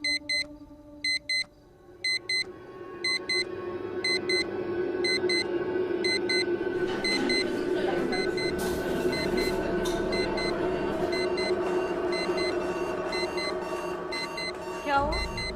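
A persistent electronic alarm clock beeps in rapid repeated bursts, then keeps sounding on and on as steady layered tones under a dense background hum, in a tense horror drama setting.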